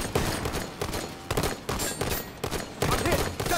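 Dense enemy gunfire in the Halo 5: Guardians multiplayer match, rapid bursts and volleys of automatic weapons crackling close and loud in repeated waves, with brief gaps between clusters of shots.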